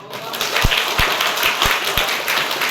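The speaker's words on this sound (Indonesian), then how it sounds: "Kasih tepuk tangan." Students at a junior high school gathering for an Isra Mi'raj religious talk give a round of applause, a bright continuous patter of many hands with a few heavier rhythmic thumps mixed in throughout.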